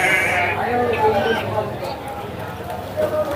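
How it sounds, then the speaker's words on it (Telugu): Sheep bleat among crowd noise at a busy livestock market in Anantapur, with bleats and hoof clatter mixed into a dense background of people talking close by. "ఈ గొర్రెలు ఉన్నాయి"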